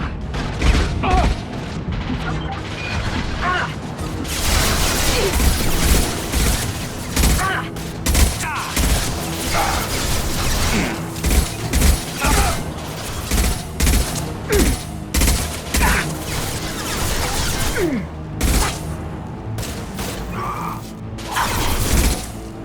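Sustained gunfire in the sci-fi shooter Mass Effect 2, a dense, loud barrage of rapid shots, impacts and booms lasting throughout, with voices shouting over the combat.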